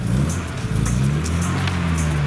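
An Aston Martin DB6 Volante Mark II drives in a car parade at the Concours of Elegance 2022, its engine a loud, close, steady drone with a slight rise in pitch and no voices over it.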